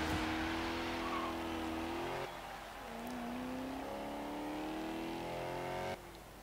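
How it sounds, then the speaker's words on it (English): A 1959 BMW 507 with a small-capacity V8 revs hard through the gears on a Forza Horizon 3 circuit, loud and close, its pitch climbing, dropping at shifts and climbing again, with no talk over it. "So yeah, I love the sound of that V8."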